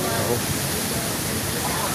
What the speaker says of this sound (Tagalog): Nalakas ng hangin.